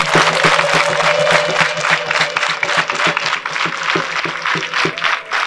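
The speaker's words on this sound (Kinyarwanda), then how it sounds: "nkaba nakwinginga nkasaba ababyeyi bari hano bagakoma amashyi menshi cyane kuri nyakubahwa perezida wa Repubulika" Parents at a school event applaud the President, a loud crowd of clapping that holds steady before thinning into rhythmic, more separate claps, with a faint tonal hum underneath.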